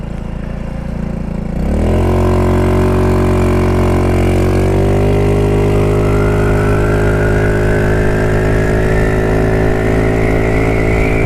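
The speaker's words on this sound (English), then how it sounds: "my exhaust sounds hella loud right now." A GY6 150cc motor scooter's loud exhaust, about to fall off, starts up and drones steadily, pitch rising slowly as it accelerates, close and continuous with no voices.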